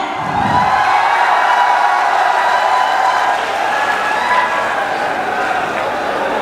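A large crowd at a Samajwadi Party rally applauds and cheers for party president Akhilesh Yadav, a dense, loud, continuous wash of clapping and shouts that holds steady and eases slightly toward the end.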